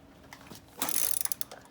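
Ratcheting clicks from a wrench loosening the axle nut on a motorcycle wheel during a flat tire repair, a close, quick burst of metallic ticks after a quiet start, with no talking.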